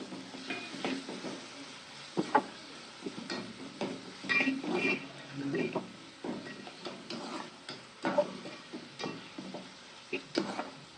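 Tomatoes are added to hot oil and stirred while frying in a pan of Agri-style dried fish (sukat) dish, giving soft steady sizzling punctuated by clinks and scrapes of a spoon.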